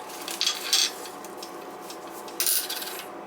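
Metallic scraping and grinding from unscrewing an old, rusting bathroom sink drain pop-up assembly, heard as two short, rough bursts close by with quieter rubbing between them.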